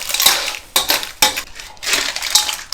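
Stir-fried surf clams in roasted chili paste are scooped from the pan onto a large plate, with shells clattering and scraping against metal and crockery in a few loud, close bursts.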